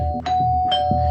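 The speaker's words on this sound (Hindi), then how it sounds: "कौन बेवकूफ है जो डोरबेल बजा बजा के नींद खराब कर रहा है सुबह सुबह?" A doorbell chimes twice in quick succession, a bright two-tone ding-dong, close and clear.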